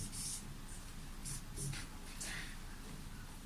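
Pen or marker scratching out numbers by hand during a mental math trick, a few short faint strokes against quiet room background.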